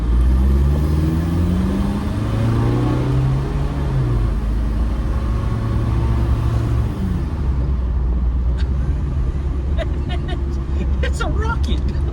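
A diesel-swapped Jeep TJ Wrangler with an AW4 automatic pulls hard from inside the cab, its engine droning and rising loudly and steadily as the driver talks over it.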